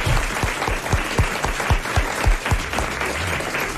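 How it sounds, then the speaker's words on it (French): A television studio audience applauds for Amanda Lear, a steady, moderately distant wash of clapping with some sharper individual claps, lasting several seconds. "applaudit Amanda Lear."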